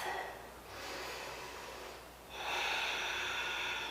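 Two deep breaths during a barre workout: a long sharp nasal inhale, a brief pause, then a stronger, louder breath, close and breathy with no talking.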